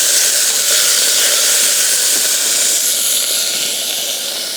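Onions and garlic fry in butter in a hot pan, making a loud, constant hiss and sizzle that stays fairly even and close throughout.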